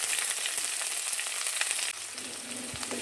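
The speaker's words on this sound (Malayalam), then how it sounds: "ഒന്ന് ഇളക്കി കൊടുക്കാം. നന്നായിട്ടൊന്ന് വഴണ്ട് വരണം." Shallots and curry leaves fry in oil for a Kerala ridge gourd curry, giving a dense, even sizzle up close that drops slightly in level partway through, with faint stirring touches.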